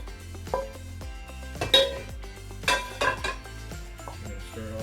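Chicken pot pie filling being stirred in a pot, with a utensil clinking and scraping against the metal in a few distinct bursts, heard close up over soft background music and no talking.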